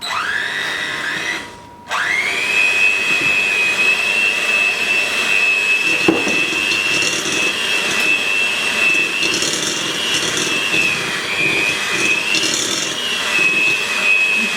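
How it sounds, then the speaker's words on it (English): An electric hand mixer beats lemon cake batter at medium speed with a steady, loud, continuous whine that runs almost the whole time, dipping only briefly near the start. "we're going to beat it on a medium speed for about 4 minutes"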